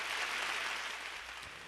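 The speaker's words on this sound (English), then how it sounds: "Give this little guy a big round of applause here." A small audience claps for a young performer at a music tribute event, a faint, steady patter of applause that lasts a moment and fades slightly.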